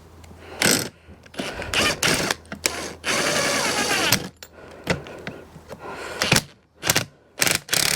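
A spring compressor being wound in on a Vauxhall Vivaro / Renault Trafic van shock absorber spring: rapid ratcheting mechanical whirring in repeated bursts with short pauses and thunks, close and loud, no talk.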